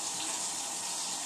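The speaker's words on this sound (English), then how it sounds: "turn the water on." Water streams from a kitchen faucet into the sink in a brief, even rush with no voices.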